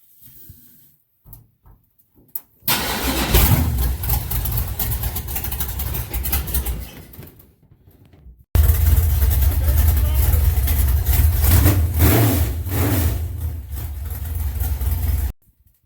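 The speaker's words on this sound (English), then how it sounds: "You start your car up, turn the fuel on." An engine cranks and catches, then runs loud and steady in a low rumble, stopping briefly before starting up again and idling heavily.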